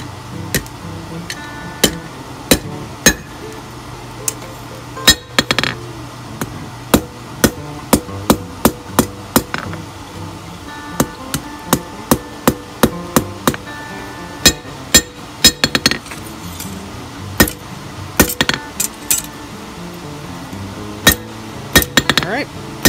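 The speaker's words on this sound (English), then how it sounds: "Probably just do it over the horn here." Hammer striking a forged steel safety hook over the horn of an anvil, sharp ringing blows in irregular clusters spread across the stretch, with brief gaps between bursts.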